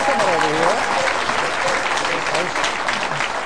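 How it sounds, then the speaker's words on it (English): Studio audience applause on a game show as an associate producer is introduced, steady clapping throughout while the host speaks over it briefly. "How about a big round of applause"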